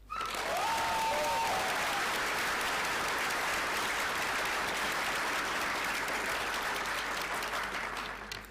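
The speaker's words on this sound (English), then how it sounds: "give a round of applause to Galen Donovan Wart" Sustained applause from a graduation ceremony audience fills the room, loud and steady from the start and tapering slightly near the end, with no voices over it.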